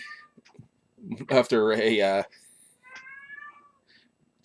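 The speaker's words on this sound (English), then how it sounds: "one of my outside cats is in the window well, being chased by one of my neighbor cats" Two cats, a house cat and a neighbour's cat, yowl and meow at each other in a window well outdoors, with one long loud drawn-out cry in the middle and fainter meows around it.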